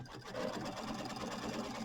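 A Kimberbell embroidery machine stitches a placement line for quilt backing fabric on a mini quilt, a steady close mechanical whir and hum without pause.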